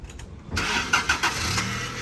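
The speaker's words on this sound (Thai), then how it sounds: "สตาร์ทที่เดียวติดนะครับผม" A 2006 Toyota Avanza engine cranks briefly, catches and settles into a steady idle, close and clear.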